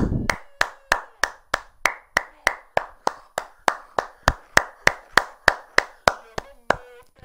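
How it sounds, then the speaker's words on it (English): Steady rhythmic hand clapping, about three claps per second, loud and close, with a faint voice beneath the first moment. "Clap it up."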